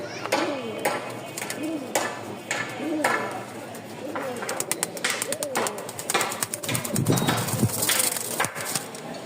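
A pigeon coos several times in a row, close and clear, while someone talks over it in a loft setting.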